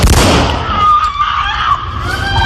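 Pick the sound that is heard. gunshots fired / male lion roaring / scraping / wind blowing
gunshots fired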